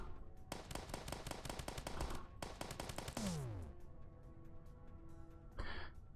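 Rapid bursts of gunfire from a gun in the video game Starbound: a fast string of sharp shots, a pause, then another quick volley with a descending sweep, followed by a brief burst near the end, loud and alone without talk.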